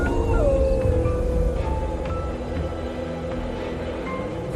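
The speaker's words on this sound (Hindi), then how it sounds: "कुत्ते रोने लगे।" Several dogs howling together in long, wavering, mournful cries that overlap over a rumbling, windy background, moderately distant and sustained throughout.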